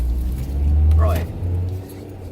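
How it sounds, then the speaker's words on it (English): A loud car engine rumbles low and steady nearby, swelling slightly and then easing, with a brief higher rattle in the middle. "The car's loud."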